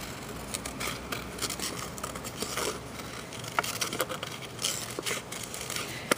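Scissors cut slowly through colored paper, giving small scattered snips and papery crackles, fairly quiet and close, with no talking.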